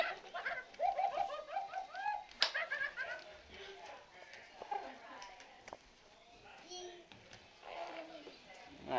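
A talking robot bird toy coos and chirps in short electronic bursts, close and fairly loud, mixed with people talking and laughing around it and a few sharp smacks.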